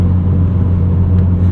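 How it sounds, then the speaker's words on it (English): Steady low exhaust drone from a modified 2020 Subaru WRX with a six-speed manual, heard from inside the car while driving, a loud continuous rumble with no talk over it. "Exhaust sounds good."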